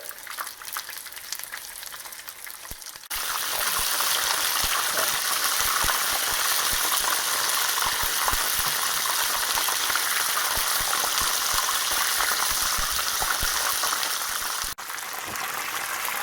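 Loud, steady sizzling of cod pieces frying in hot oil in a pan, starting after a quieter moment and continuing without pause.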